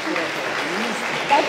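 Applause from the audience at a school award ceremony for National Education Day, a brief, even burst of clapping with voices audible underneath.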